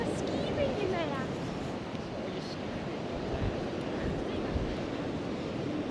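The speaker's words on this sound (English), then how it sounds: "Look at those waves!" Ocean waves surge and wash continuously beside a pier on a very windy day, a broad roar mixed with heavy wind buffeting the microphone, with voices faintly underneath.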